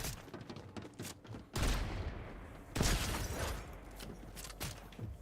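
Gunfire in a video game: a bursty run of loud shots and thuds, with two heavier blasts standing out over continuous rumbling action, close and dense throughout.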